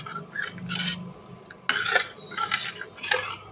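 Spoon scraping and clinking in a pot of green cowpea curry being mixed, several separate scrapes and knocks of metal on metal, close and clear with no talking.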